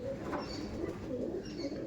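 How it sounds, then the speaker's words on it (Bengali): Dragon head pigeons in a loft, cooing softly in low, repeated throaty calls under a steady background hum, with faint chirps scattered throughout. "এগুলো হচ্ছে ড্রাগন হেডের পায়রা, একদম ভিল লাইনের পায়রা"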